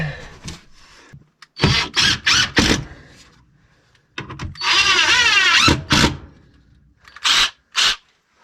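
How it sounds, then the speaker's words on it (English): A power drill drives screws into wood while an inverter is mounted inside a shipping container. It comes close and loud in several short whirring bursts, then one longer run that spins up, and two final quick pulses. "now it's time to shoot some screws in here real quick"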